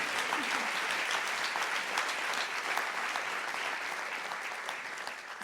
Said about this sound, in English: Okay, you can clap for that.